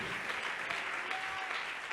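Congregation applauding during a church service, steady continuous clapping at a moderate distance that fills the whole moment without pause.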